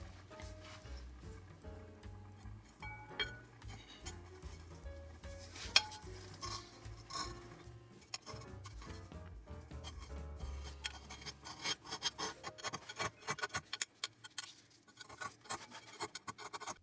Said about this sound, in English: I decided to scrape them off and purify them even more